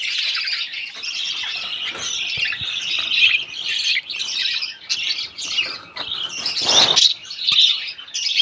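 Pet breeding birds in a colony chirp and squawk on a morning, a dense, continuous chorus of high, overlapping calls with a few sharper squawks. The birds are loud and close, with no talk.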